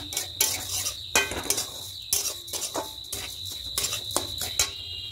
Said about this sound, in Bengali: মিডিয়াম ফ্লেমে করতে হবে, দিয়ে খুব ভালো করে নাড়তে হবে সবসময়।